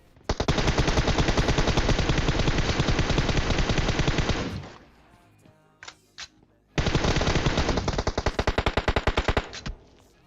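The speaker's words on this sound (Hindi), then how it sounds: "थोड़ी गोलियां भी बर्बाद कर देता हूँ।" Sustained automatic gunfire in PUBG Mobile, loud and close: a long continuous burst, a short pause with a few scattered single shots, then another long burst that breaks into separate spaced shots near the end.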